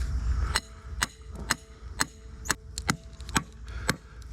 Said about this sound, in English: You gotta get a smaller hammer,